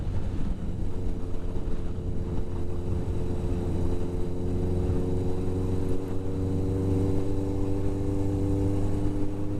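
A Yamaha XS1100 motorcycle riding after a sticky, dry clutch was reassembled: a steady engine drone with strong low harmonics under constant wind rush, continuous and fairly loud, with no talking.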